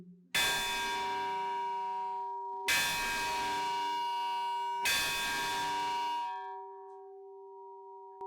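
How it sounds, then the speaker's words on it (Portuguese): An old church tower bell at a sugar mill estate in Maragogi, struck three times at even intervals, each loud metallic clang ringing on with a long, slowly fading tone. "nós vamos subir ali e tocar o sino para vocês verem"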